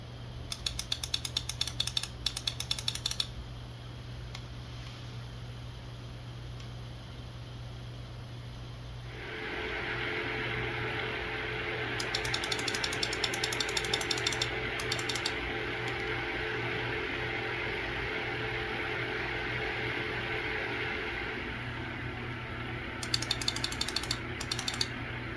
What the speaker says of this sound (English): The card does not have 0 decibel fan mode, so at idle, the fan spins at 1250 RPM.